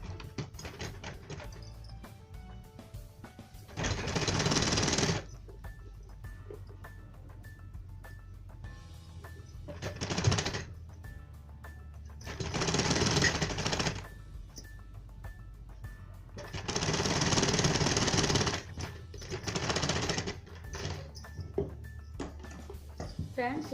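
A sewing machine stitches a belt on a tucked blouse in five separate bursts of running needle noise, with quiet pauses between them.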